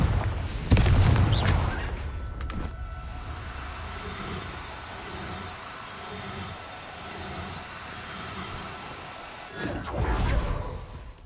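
A Confringo blasting spell in Hogwarts Legacy goes off with a loud burst near the start, followed by a rumbling, rattling tail and a second heavy blast near the end.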